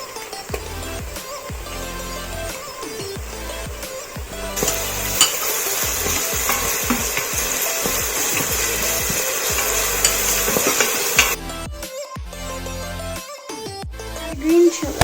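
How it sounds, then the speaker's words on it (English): Ginger garlic paste sautés in a pan for vegetable pulao, a steady sizzle with stirring scrapes that grows louder midway, then gives way to quieter clinks and pauses near the end, over soft background music. "And saute it. Add ginger garlic paste."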